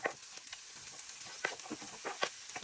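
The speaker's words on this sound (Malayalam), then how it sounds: "നമുക്ക് ആ ഷാലറ്റ്സും ഓണിയൻസും കൂടി ഇട്ട് കൊടുക്കാം." Shallots and onions frying in masala for a Kerala prawn roast, a soft sizzle broken by quiet stirring scrapes and light taps, close but low in level.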